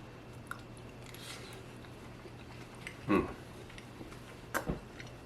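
Someone chews a bite of homemade holiday stuffing with celery and onion, producing a few soft, close, moist chewing sounds with brief louder bites against quiet background, no talking.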